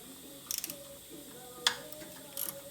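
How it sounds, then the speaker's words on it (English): A 7mm Allen hex wrench loosening a bolt on the front brakes of a 2005 Volkswagen Jetta TDI, a few faint metallic clicks and ratchety scrapes in short bursts, close but quiet. "Now we take your 7mm Allen wrench or hex wrench, whatever you want to call it, and we loosen it right off."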